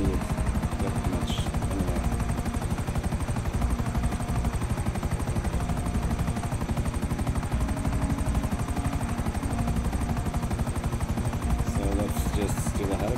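Helicopter in GTA 5 Online flying with a loud, continuous rotor chop and engine drone, a dense steady rhythmic thumping that fills the whole stretch, with a voice faintly over it.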